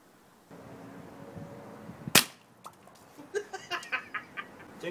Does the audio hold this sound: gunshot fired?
yes